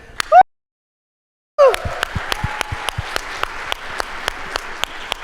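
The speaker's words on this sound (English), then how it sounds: "Another round of applause" Scattered claps ring out at an awards ceremony after a brief silence, sparse and distinct hand strikes repeating steadily, with voices speaking before the gap.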